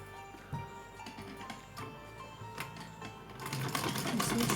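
Sewing machine stitching small pleats into a Laddu Gopal dress, a steady close rapid mechanical whir with needle clicks that grows louder and busier toward the end.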